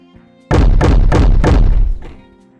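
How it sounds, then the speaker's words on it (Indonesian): Four hollow wooden knocks of a video game wooden wall sound effect, in quick, even succession, each with a short resonant thud, then a fading tail. "Jadi suara dindingnya tuh seperti ini."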